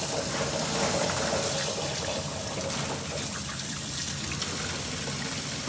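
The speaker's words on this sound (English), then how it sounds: "We're going to fill it up with some fresh water." Fresh water pours steadily from a tap into a bucket used for sterilizing seedling pots, a continuous close splashing trickle with no talking over it.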